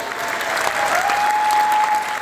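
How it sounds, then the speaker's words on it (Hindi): Loud, steady applause from an audience honoring Dr. Sanjeev at a company event, dense clapping sustained throughout with a faint tone running beneath. "एक बार मैं चाहूंगा डॉक्टर संजीव सर के लिए भी जोरदार तालियां होनी चाहिए।"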